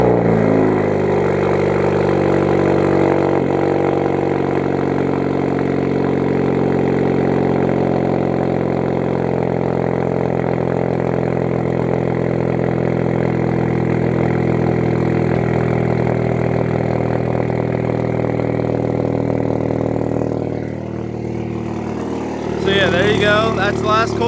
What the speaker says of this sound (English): give it a nice little cold start